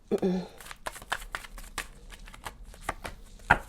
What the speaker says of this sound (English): I have, I think, 2 more decks to shuffle here. 1 more deck to shuffle.